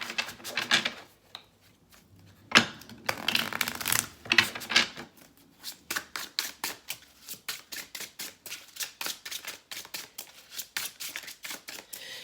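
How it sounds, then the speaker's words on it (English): Tarot cards being shuffled, a long run of quick crisp riffling flutters in a steady rhythm, close and moderately loud, with a few louder shuffles near the start and no talk. "Let's pull some more tarot cards just to see anything else popping up for your energy"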